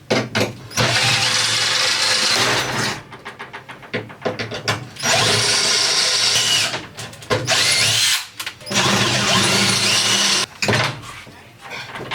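Loud power drill whirring in repeated bursts while drilling out a tread plate, revving up and cutting off several times, close by, with short quiet gaps between runs.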